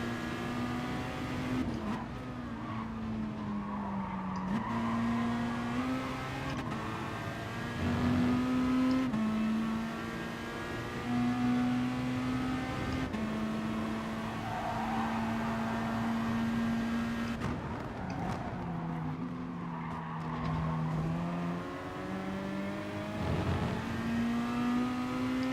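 Race cars in GT Sport, including Toyotas and a GTR, rev hard with engine notes rising and shifting through gears, one car's tone dropping and climbing again, continuous and close with no speech.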